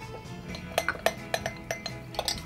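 A spoon clinks against a cup while stirring powdered sugar into cocktail ingredients for a 1963 Aku-Aku Gold Cup, giving a series of light, close metallic taps in an uneven rhythm over a quiet background.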